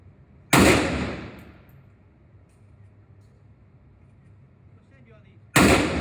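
Two sharp, loud gunshots at a gun range, about five seconds apart, each with a short fading echo, and faint talk in the quiet gap between them.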